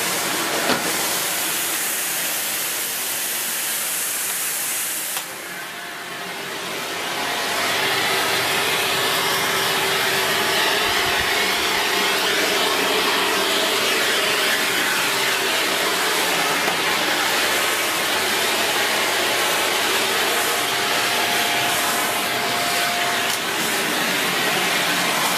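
A Shark Powered Lift Away NV681UKT vacuum cleaning through its hose gives a loud, steady, broadband whooshing roar. Suction noise thickens after a brief change in pitch, then runs continuously and close.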